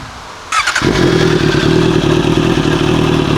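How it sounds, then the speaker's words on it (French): A Honda CBR 650 motorcycle with a full exhaust fires up after a brief click and settles into a loud, close, steady idle with a deep, evenly pulsing rumble. "Le bruit quand même du pot d'échappement est pas mal."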